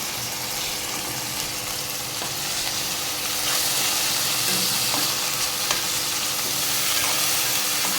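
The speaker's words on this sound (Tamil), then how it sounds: "போட்டு அதையும் பச்சை வாசனை போகிற வரைக்கும் நல்லா வதக்கி எடுத்துக்கலாம்" Steady loud sizzling of ginger garlic paste sautéing in a hot pan for egg curry, with occasional stirring scrapes and clicks, close up and continuous.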